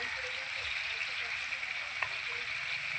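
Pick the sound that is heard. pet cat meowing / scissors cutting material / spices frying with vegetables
spices frying with vegetables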